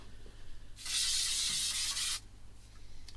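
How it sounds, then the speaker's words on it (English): A steady spray of Craft Mount permanent spray adhesive hisses inside a spray box for just over a second, close and fairly loud, with quiet room noise before and after. "I'm going to pop these into my spray box and just use some spray glue"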